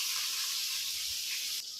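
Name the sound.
food frying in a pan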